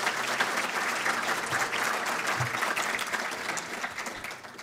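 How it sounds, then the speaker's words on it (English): An audience gives an extra round of applause for Gretchen Carlson at an event, a moderately loud, even roar of many hands clapping that fades slightly toward the end. "we can give her an extra round of applause"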